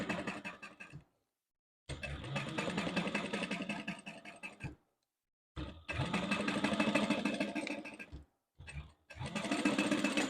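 A sewing machine back-stitches a tote bag in three fast mechanical runs of whirring needle clatter, each stopping abruptly with short silent gaps between them.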